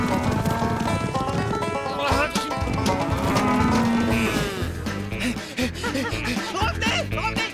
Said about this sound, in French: qu'est-ce qu'elle dit, la vache?